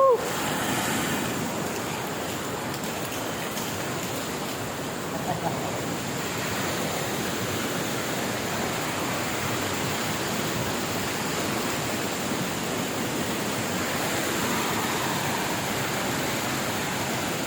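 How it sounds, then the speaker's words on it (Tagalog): Strong rushing water current at Bahi Resort fills the scene with steady broadband roar and splashing, loud and continuous throughout, with a brief faint voice near the start. "Ang lakas ng current ng ng tubig."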